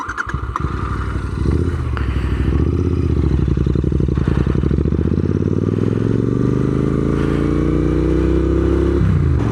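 A Royal Enfield Interceptor 650 motorcycle engine starts with a clattery burst after stalling, then idles and revs steadily, rising gradually in pitch, loud and close.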